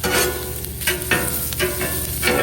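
Onions hit a pan on medium heat and fry with a steady, close sizzle, broken by a few brief scraping stirs, loud and unbroken by any voice.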